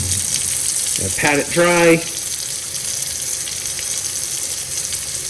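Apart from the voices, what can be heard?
rinsing a silver eagle coin under water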